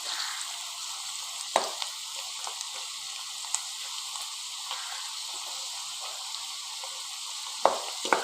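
A second batch of chana dal frying in hot oil until crisp, giving a steady, even sizzle that runs throughout, with a few soft pops and clinks of a stirring utensil, and no talk.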